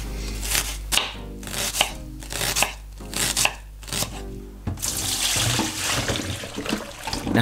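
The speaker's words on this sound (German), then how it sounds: "könnt ihr schon mal in der Zwischenzeit eine rote Zwiebel fein schneiden" A knife finely chops a red onion on a cutting board, with a string of sharp, close taps in uneven rhythm followed by a rustling scrape as the pieces are gathered.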